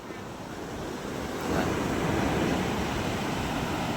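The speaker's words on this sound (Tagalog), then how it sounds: "ngayon ay napakalaki ng ating mga alon" Heavy surf roars steadily at a fish terminal shore in Tanza, Cavite, after a typhoon, with large waves crashing and the roar swelling partway through, under a constant wash of wind.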